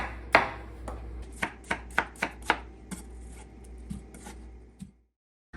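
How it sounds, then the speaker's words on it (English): A knife slices and cubes watermelon on a cutting board, giving a quick run of crisp, evenly spaced chops followed by a few slower cuts, close and fairly soft with no talking. "Just slice them and cube them."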